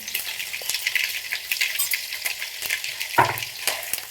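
Garlic frying in hot oil with cumin and mustard seeds, a close busy crackle and sizzle with small popping bursts and a brief clatter near the end.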